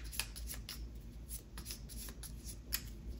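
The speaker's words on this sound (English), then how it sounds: "Try and shuffle these as best I can." Riffling playing cards being shuffled close by, a few quick ruffles and light flicks at a quiet level, with no voices.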